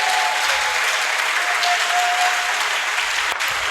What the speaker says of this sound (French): Donne-lui des acclamations